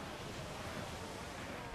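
A faint, steady wash of wind over open sea in the Assassin's Creed 4: Black Flag video game, a soft continuous rushing noise with no distinct gusts.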